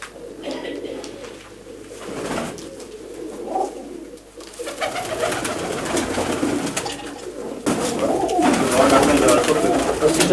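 Breeding pigeons, female birds kept for breeding in a loft, coo in soft repeated low calls close by, with a voice talking over them.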